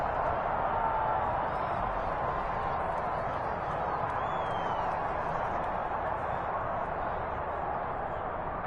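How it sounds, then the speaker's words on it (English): A stadium crowd in the Madden 23 football video game keeps up a steady, dense roar of shouts while a replay is shown, with no distinct single voices. "plenty of shouts from this crowd as they watch the replay"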